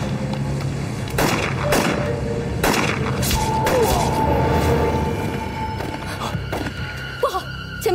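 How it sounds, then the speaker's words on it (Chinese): Gunshots ring out in a wartime action film scene, several sharp, loud bursts spaced irregularly over a steady background. "前面有枪声"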